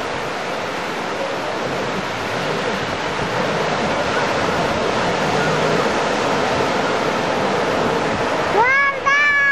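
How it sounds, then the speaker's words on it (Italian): Sea waves wash steadily on a beach at a lido in Vieste on the Gargano coast, a loud continuous surf roar with a voice at the very end. "Ci sono le onde."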